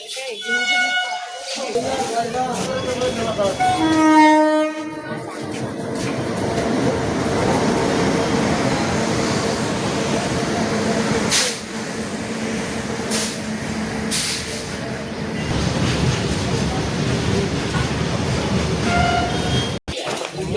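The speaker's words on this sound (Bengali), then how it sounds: "মাল ট্রেন একটা দাঁড়ানো আছে, আবার একটা মাল ট্রেন আসছে।" A coal-laden freight train runs through Golakganj railway station, a steady rumbling roll of wagons that holds for the full stretch, with people talking over it and a brief harmonic tone near the start.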